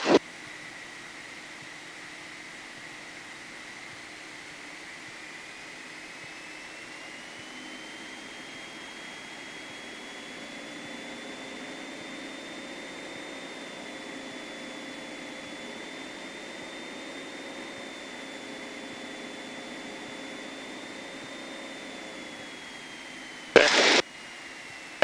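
A small piston aircraft engine at a training flight's pre-takeoff run-up holds a steady droning tone, then builds to a louder, higher-revving hum partway through with no talk over it, before a brief burst of noise at the end.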